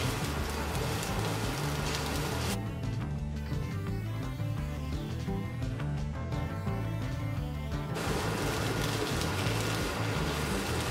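Potatoes for a vrat dish sizzle and crackle steadily in a pan as they are stirred and roasted. The frying is loud, then drops to a softer sizzle for a few seconds before returning at full strength.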